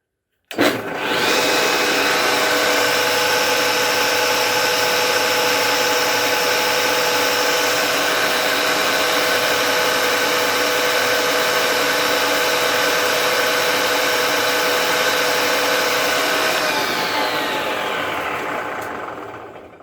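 A homemade dedicated dado table saw runs alone at a steady, loud whine with a hum and a faint vibrating buzz from an old belt, then spins down near the end.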